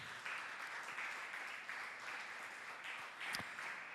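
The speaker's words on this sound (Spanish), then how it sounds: "Dele ese aplauso bien lindo al Señor Jesús." A church congregation applauds together, a steady wash of clapping held at moderate distance for a few seconds, rising in faint waves, with no words spoken.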